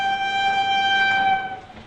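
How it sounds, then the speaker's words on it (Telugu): A train's horn sounds in long, steady, loud tones as the train pulls into a station platform, then trails off near the end. "ట్రైన్ ప్లాట్ఫామ్ మీదకి వచ్చేస్తున్నాడు"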